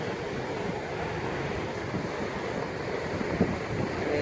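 Ocean waves wash onto a busy summer beach in Melbourne, Victoria, Australia, as a steady, rumbling surf roar mixed with wind buffeting the microphone and no talking.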